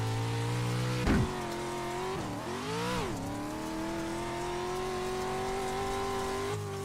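A short course truck in the iRacing video game revs hard, its engine pitch rising and dropping through gear changes and throttle lifts, loud and continuous with a brief tire scrub.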